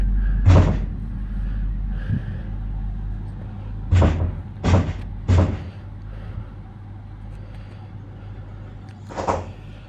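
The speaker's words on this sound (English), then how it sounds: "Weirdly, the door started knocking" Someone knocks on a door in a supposedly haunted home: loud, close, sharp thumps come singly and in a quick cluster, separated by quiet stretches.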